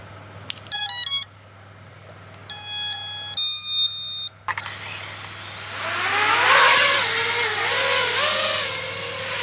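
An iFlight Nazgul V2 5-inch FPV drone beeps several times in short electronic tones, then its motors spin up into a loud buzzing whine that rises and dips in pitch as it lifts off nearby.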